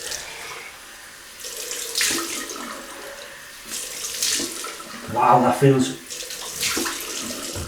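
Cold water runs from a bathroom tap during a wet shave with a DE razor, a steady hissing splash with surging bursts, close to the microphone, while someone speaks briefly over it.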